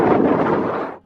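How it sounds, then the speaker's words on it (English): Strong wind gusts roar loudly and steadily across a microphone near the Navajo Bridge on the Utah–Arizona corridor, a dense, buffeting rush that holds for about a second before dropping away abruptly. "As you can hear, the wind kicked up quite a bit."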